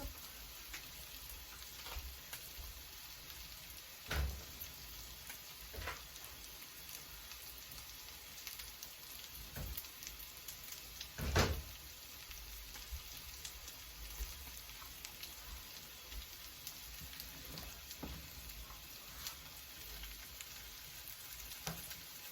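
A salmon omelette frying in a pan, a steady faint sizzle throughout with occasional soft pops and knocks rising briefly above it.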